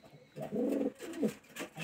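A male pigeon with a green leg ring coos in a loft, giving a close, soft, throaty rolling coo phrase repeated in quick succession.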